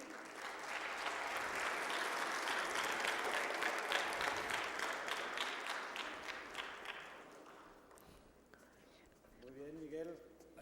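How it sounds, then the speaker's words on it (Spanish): Sustained audience applause at a mining safety symposium, a dense crowd clapping loudly for several seconds before thinning out, followed by a voice speaking. "le damos también un aplauso"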